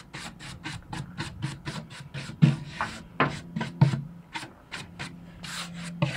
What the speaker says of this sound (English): I gotta clean up all the sawdust there. We'll brush that stuff off,